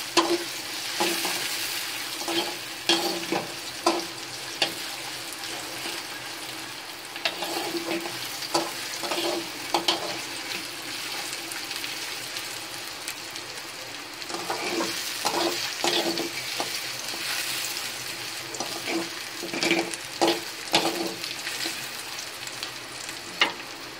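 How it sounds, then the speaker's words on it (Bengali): Chopped onions sizzle steadily in hot oil in a pan while a spoon stirs and scrapes them in repeated bursts, a close, continuous frying hiss lasting throughout with no voices. "পেঁয়াজটা আমি একটু আগে ভাজা ভাজা করে নেব"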